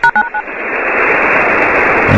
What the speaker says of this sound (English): And then you heard a couple touch tones designed to trip something.